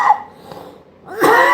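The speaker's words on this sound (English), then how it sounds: "Get rid of that cough." A man coughs, a short muffled hack at the start followed by a louder, harsher burst of coughing near the end, heard close and alone outdoors on a morning walk.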